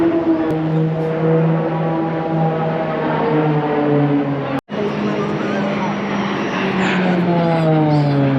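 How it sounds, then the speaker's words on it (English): Propeller aircraft drone loudly overhead at a beach in New Zealand during the Burt Munro Challenge, a steady harmonic engine hum with shifting pitch as planes pass, continuous with a brief dropout midway. "Check out all these planes, it's absolutely fantastic."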